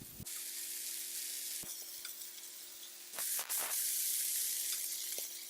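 Shredded potato hash browns sizzle on a very hot griddle in a steady, bright hiss, broken by a few sharp scraping and pressing sounds.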